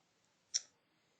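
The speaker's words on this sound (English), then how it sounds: "Let's verify it by clicking on it." A single computer mouse click, a short, crisp tick that stands alone in near silence, close and quiet.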